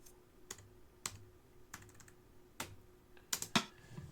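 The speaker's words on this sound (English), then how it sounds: "So let me demonstrate that with the click." A metronome click track plays sharp, dry clicks spaced at steady intervals, with a brief double click near the end. The clicks are moderately close and stand alone with no voices.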